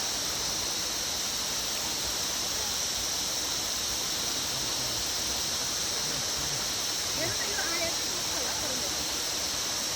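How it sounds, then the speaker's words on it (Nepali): A small hillside waterfall at Mabu in Ilam, with water dropping from above, makes a loud, steady, unbroken rushing roar close by throughout. "माथिबाट झर्नाको पानी।"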